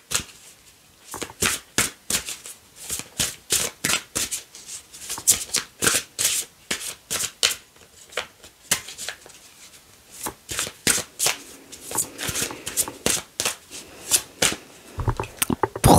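A deck of tarot-style oracle cards is shuffled by hand for a general card reading, giving a long run of rapid, crisp riffling bursts in a steady rhythm, close and fairly loud, with no talking.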